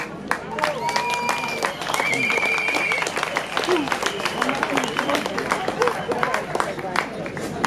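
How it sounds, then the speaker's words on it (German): Applause from a crowd at a Monday street demonstration about Stuttgart's main railway station, sustained clapping mixed with shouts, whistles and cheering voices. "Applaus"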